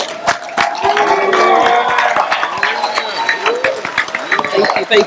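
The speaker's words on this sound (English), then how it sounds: "please give a rousing round of applause" University convocation audience applauding their president at a homecoming event, heard as sustained crowd clapping and cheering with scattered whoops and voices, loud and close throughout.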